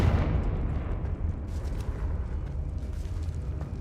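A Confringo blasting spell explodes in Hogwarts Legacy, a loud, booming burst of rumbling noise that fills the moment and slowly decays, heard alone.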